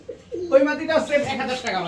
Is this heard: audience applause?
no